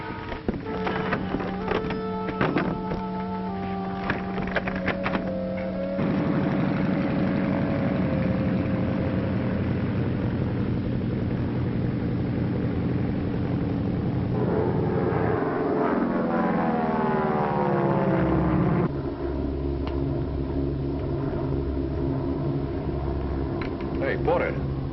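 A propeller airplane engine drones steadily in flight in a 1946 film, a loud continuous hum that shifts in pitch partway through, with music or other tones over it at times.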